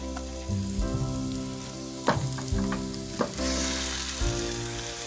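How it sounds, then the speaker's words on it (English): Ground beef frying in a pan with green peppers, minced garlic and onion for baked spaghetti, giving a steady close sizzle with a few sharp scrapes and stirs over a low hum, no talking. "next we're going to just go ahead and put our ground beef in"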